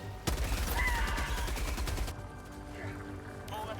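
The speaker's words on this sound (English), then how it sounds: "When dealing with warriors, the heavy machine gun shines." A heavy machine gun fires in Helldivers 2 as a rapid, loud burst of shots that stops abruptly partway through, followed by quieter game sounds and a brief final rattle.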